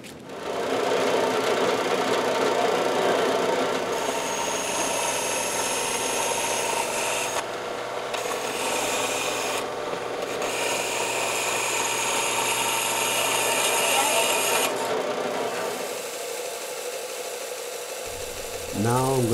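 A power tool cuts and sands steel chunks off a small micrometer stop being made on a lathe, a steady loud grinding whine running for most of the stretch with brief changes in pitch, then tapering off near the end.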